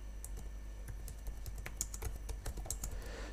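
Fingers tap out a quick, irregular run of keystrokes on a computer keyboard nearby, with soft clicks following one another over a quiet room background and no talking.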